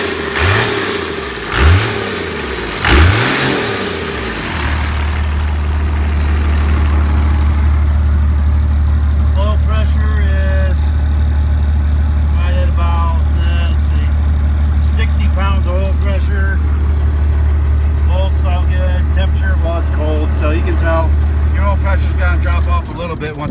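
A Cummins diesel truck engine sits at a loud, heavy idle after a couple of quick revs at the start, with a steady deep rumble and rattling clatter continuing throughout.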